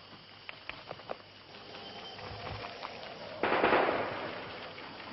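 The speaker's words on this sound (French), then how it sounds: "Vous avez entendu un coup de feu." A single sharp gunshot cracks out at mid-distance, with faint scattered pops and rustling before it and a brief decaying echo after.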